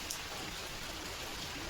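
Steady rain pours down during a flood near Bhadrak, a dense, even hiss of drops on surfaces with no break or talk, fairly faint throughout.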